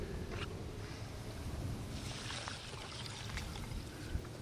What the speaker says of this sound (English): And now we're going to add the water.